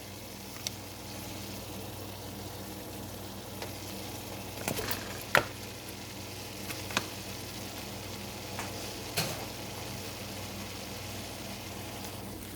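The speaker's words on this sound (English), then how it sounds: "I just added the onions, and now I'm going to stir the onions in here with the meat." Diced onions sizzle softly in a pot of meat for taco soup, a steady low frying hiss broken by occasional scrapes and taps of a utensil stirring.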